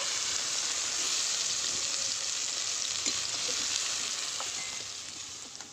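Ridge gourd pieces frying in oil, heard as a steady, broad hiss of sizzling with a few faint clinks, close by and continuous, slowly fading near the end, with no talk.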